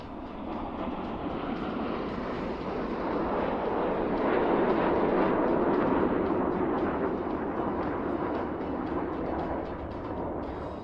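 A Boeing 747-400 leads Red Arrows jets in a formation flyby at an airshow, a broad continuous jet roar that swells slightly to a peak midway and then holds steady, with no talk.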